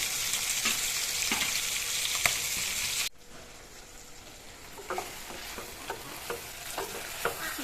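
Skunk vine and fish fry in a pan as a splash of added water sizzles off, with a loud steady hiss that drops abruptly, then softer popping and crackling continues.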